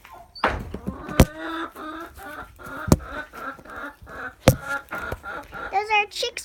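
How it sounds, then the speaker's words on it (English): Chickens and chicks on a farm clucking in short, close bursts with sharp knocks between them, while a person talks nearby. "Those are chicks right there."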